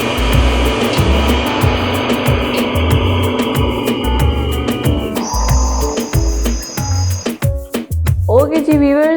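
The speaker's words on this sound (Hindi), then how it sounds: "अब हम इसको अच्छी तरीके से ब्लेंड कर देंगे।" A blender whirs in short repeated bursts through a chicken seekh kabab mixture of spices and tandoori masala, the pulsing motor rising and stopping under background music.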